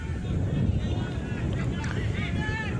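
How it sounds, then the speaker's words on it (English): Wind gusts over an outdoor football ground during a Northern Territory league men's match, a steady low rumble of microphone buffeting that runs throughout under an indistinct voice. "Definitely windy now, so cooling us all down"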